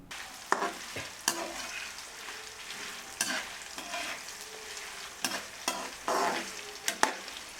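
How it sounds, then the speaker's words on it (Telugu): Coriander seeds and tamarind fry in a pan for a spice powder, with a soft, steady sizzle broken by repeated sharp scraping strokes of a spatula at irregular intervals, close by and with no talking. "దానిలో ధనియాలు వేసి కొంచెం సేపు వేయించండి ధనియాలు కూడా వేగిన తర్వాత దానిలో చింతపండు వేయండి"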